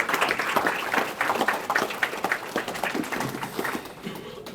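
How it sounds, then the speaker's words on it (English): Clapping from a rodeo hall of fame audience welcoming the rodeo committee chairman, uneven and fairly close, with individual claps standing out and the applause easing slightly toward the end. "Big round of applause for Nick"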